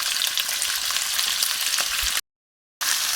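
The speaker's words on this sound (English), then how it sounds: "European style of searing the meat, it just enables you to lock in the flavor" Mutton chops searing in a pan give off a loud, steady crackling sizzle for about two seconds, then total silence, then the sizzle returns, close up with nobody speaking.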